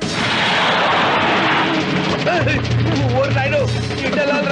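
A car bomb blast from a Telugu movie scene fills the start with a loud, dense roar of rumbling noise that lingers and fades slowly, and a voice talks over the end.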